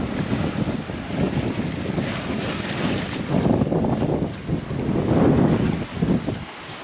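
Steady wind of about 16 knots buffeting the microphone on a sailboat crossing the Pacific, with gusts rising and falling over the whoosh of water rushing past the hull.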